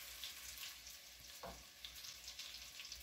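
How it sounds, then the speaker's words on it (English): Food laid in hot butter in a pan while making beef stroganoff, giving a steady, quiet sizzle and crackle throughout, with one brief louder scrape or stir near the middle. "we really are just laying them down in the hot butter and letting them crispen up"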